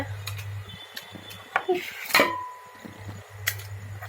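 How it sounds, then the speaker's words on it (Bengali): A knife chops meat into small pieces on a board in a home kitchen, producing scattered taps and clinks of blade and utensils, close and moderately loud, over a low steady hum. "এদিকে দেখেন চাকু দিয়ে মাংস কাটা শুরু হয়ে গেছে"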